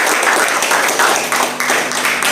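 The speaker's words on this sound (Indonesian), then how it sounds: "Beri aplaus untuk teman Anda." A classroom of students applauds a classmate with brisk, dense clapping that holds steady for a couple of seconds, close and loud.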